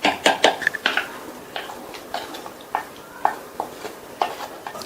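Rice mixed with tamarind paste for puliyodharai is stirred in a vessel, giving soft, irregular scraping and clinking strokes of a spoon against the pot, close and moderately loud, with no talk.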